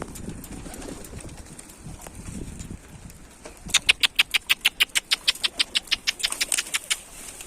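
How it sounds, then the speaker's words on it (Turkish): Pigeons on a rooftop make soft calls amid low background rumble, then a sharp, rhythmic run of wing claps rises loudly for several seconds as birds flap and take off nearby. "Şöyle biraz kuş göstereyim şuna."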